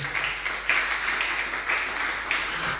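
A church congregation applauding together, a steady wash of clapping at moderate volume with no break, heard from across the room.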